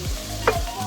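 Whole spices and onion fry in oil for keema, a short burst of sizzling with a couple of stirring strokes and one sharp clink, no voices.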